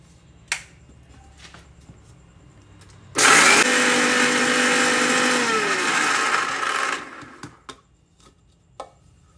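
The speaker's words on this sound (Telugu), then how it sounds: "జీలకర్ర ఆవాలు మిక్సీ పడుతున్నాను" A kitchen mixer grinder whirs loud and close for about four seconds as it grinds cumin and mustard seeds. A few light taps and clicks sound before and after the burst.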